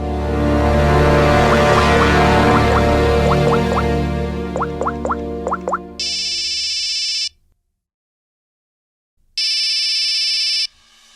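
A phone rings in a Hindi CID crime drama scene, first as a rising musical ringtone melody over background score, then as two loud sustained electronic ring bursts separated by a brief silence.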